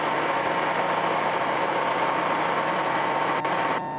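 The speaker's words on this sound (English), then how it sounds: "did you hear the change in the engine noise?" A loud, steady light aircraft engine drone fills the clip, constant and close, with no clear drop in pitch as it is throttled back; no talking.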